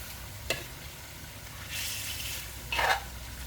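Large whole fish frying in a pan, a soft steady sizzle with brief louder hissing bursts as it is stirred, close and fairly quiet with no talking.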